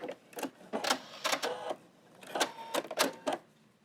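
A sewing machine top stitches a fabric tree trunk onto a Christmas napkin in several short runs of rapid mechanical clatter, close and fairly quiet, separated by brief pauses.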